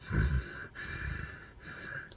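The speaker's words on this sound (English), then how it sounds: "you can do ujjayi breathing, which means you close a little bit the throat." Ujjayi breathing in a yoga practice, each breath drawn through a slightly narrowed throat, giving a soft, hissing, ocean-like rush; about three close, steady breath strokes with short pauses between them.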